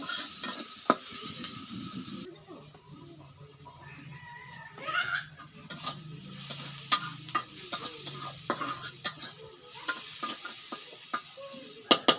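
Hilsa fish fries in a pan, with soft sizzling and a series of sharp spatula scrapes and taps as it is stirred, close and fairly loud, with quieter pauses between strokes.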